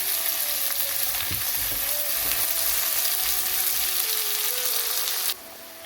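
Onions and cashews sizzling steadily in hot oil in a pan for a cauliflower curry gravy, a close, continuous frying hiss with faint stirring scrapes, stopping abruptly near the end.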